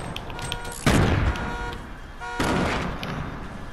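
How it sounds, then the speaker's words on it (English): Two grenade blasts in Fortnite go off in quick succession, each a sudden loud broadband burst with a rumbling tail, the second following about a second and a half after the first. "Someone's throwing grenades."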